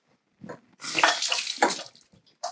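Tap water runs into a sink as fingers are wetted while making gluten-free sourdough focaccia, a close, splashy burst of about a second and a half with a few softer trickles around it.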